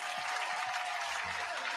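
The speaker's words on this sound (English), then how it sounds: "you see that round of applause for you, bro?" A round of applause, dense steady clapping from a group that holds at an even level through the short stretch, with faint low voice sounds underneath.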